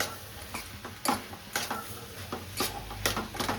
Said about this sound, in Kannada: ಕೊತ್ತಂಬರಿ ಸೊಪ್ಪು ಹಾಕಿ ಅಷ್ಟೇ ಸ್ವಲ್ಪ ಹಿಂಗೆ ಮಿಕ್ಸ್ ಮಾಡ್ತಾಯಿರಿ.